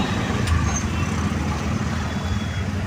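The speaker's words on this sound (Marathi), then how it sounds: "ठीक आहे खूप ट्रॅफिक आहे" Busy road traffic rumbles continuously nearby, a dense low drone of cars, buses and trucks with a faint brief hiss, on the way to Arnala beach.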